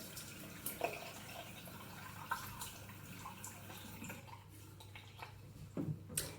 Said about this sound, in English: Okay, so quick rinse.